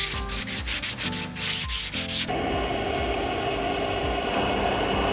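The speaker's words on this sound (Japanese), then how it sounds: "サンドペーパーで仕上げます。" Rhythmic rubbing strokes of sandpaper on wood, followed by a steady, continuous machine drone.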